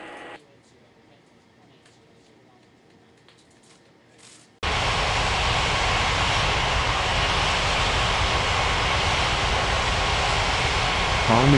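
Inside the Unmatched Air Traffic Control game an airliner comes in to land. A faint start gives way suddenly to a loud, sustained roar of jet engines and rushing air that holds steady to the end, under a voice on the radio.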